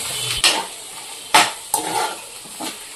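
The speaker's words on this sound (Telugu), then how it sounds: "ఉప్పు అనేది వేసిన తర్వాత మొత్తం కూడా కలిసేటట్టుగా కలుపుకోవాలి" Mutton blood fry is stirred in a pan, giving a few distinct scraping strokes of the spoon against the metal over a soft background sizzle, close and clear, with no talking.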